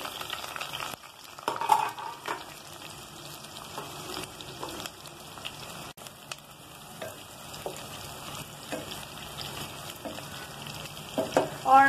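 Two chopped onions frying in a quarter cup of oil in a pot, a low steady crackle with scattered light stirring scrapes and a louder clatter at the very end.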